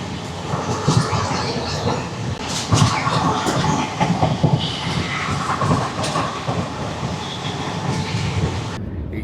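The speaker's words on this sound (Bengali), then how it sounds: "এই যে জিষ্ণু আমাদের সাথে যাচ্ছে, তুমি এর আগে এত লং ট্রেন জার্নি করেছো?" Long-distance express train from Kolkata to Kalka running on rails at dusk, heard from inside the coach: a continuous loud rumble with rhythmic clickety-clack of wheels over rail joints, no talking.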